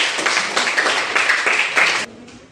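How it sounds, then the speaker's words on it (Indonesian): Students in a classroom clap their hands together, a loud burst of applause with rhythmic pulses that stops abruptly near the end, leaving a faint tail. "Tepuk tangan dulu dong."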